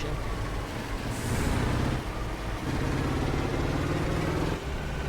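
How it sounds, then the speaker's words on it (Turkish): A Ford Cargo 2520 truck rumbles steadily on a winding mountain forest road, its engine and exhaust giving a continuous, loud low drone from close by with slight swells. "Egzoz sesi çok güzel değil mi ya?"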